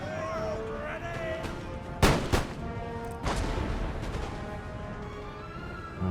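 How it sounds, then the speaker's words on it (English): Rifle-fired grenades and artillery from the video game Empire Total War, sharp booming blasts and crackling shots in a cluster near the middle, over a background of battlefield noise and music. "It looked like they fired them from their rifles."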